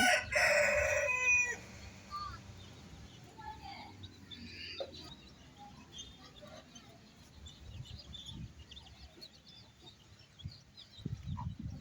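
In a village, a rooster crows loudly at the start, followed by soft clucking of chickens and scattered farmyard sounds, with some quiet background noise.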